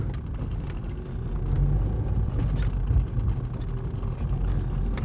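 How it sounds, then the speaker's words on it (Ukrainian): A 2.0-litre Opel Zafira with a rattling engine, a flashing check-engine light and lost pulling power rumbles steadily while driving, loud and continuous from inside the car with no voices. "Так, я не знаю, що тут в моторі так гримить"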